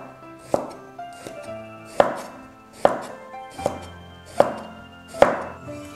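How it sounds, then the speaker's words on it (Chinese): A kitchen knife chops an eggplant into irregular roll-cut chunks on a cutting board, six firm, close, loud thuds at a steady, unhurried rhythm with no talk. "然后把茄子切成滚刀块"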